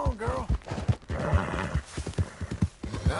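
In Red Dead Redemption 2, a horse's hooves clip-clop in a steady plodding rhythm along with snorts and a whinny, close up, while someone speaks softly over it.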